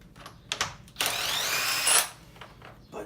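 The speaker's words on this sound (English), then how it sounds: "I prefer to use an impact driver to take this band off." An impact driver loosening the 3/4 inch bolt on the band of a Hayward DE pool filter: a few short taps, then about a second of loud, close whirring and rattling hammering before it stops, followed by quieter handling clicks.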